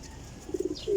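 A pigeon gives a brief, soft coo of a few quick pulses followed by a longer drawn note, close by and otherwise quiet.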